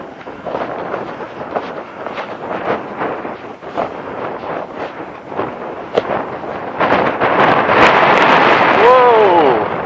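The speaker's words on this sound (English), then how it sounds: "Really windy. Absolutely really windy." Strong coastal wind buffets the microphone at Cape Spear, a loud, steady broadband roar with gusting surges that swell louder toward the end, while a voice speaks over it.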